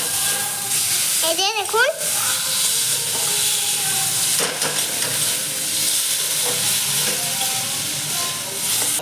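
Potatoes frying in a pan in a village kitchen make a steady, loud sizzle with occasional stirring scrapes, while a voice speaks briefly early on over the sizzling.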